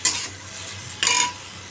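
Capsicum fries in a pan, seasoned with a little black pepper: two brisk spatula stirs scrape against the pan over a soft, continuous sizzle, close up with no talking.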